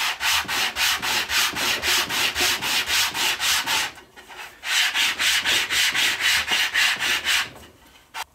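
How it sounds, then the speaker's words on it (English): A wooden frame sanded by hand with sandpaper glued onto 3/4 inch MDF: steady, rhythmic back-and-forth rasping strokes, close and loud, with a short pause in the middle before the strokes resume. "And with our frame dry, we can now sand it."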